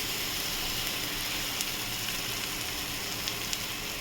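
Masala for a prawn curry fries in a pan, giving a dense, even sizzle close by with a few faint clicks of stirring over the continuous hiss.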